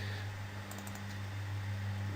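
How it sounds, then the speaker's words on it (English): A computer keyboard is typed on in a short run of soft, close key clicks over a steady low electrical hum. "just type in my name, hit add word"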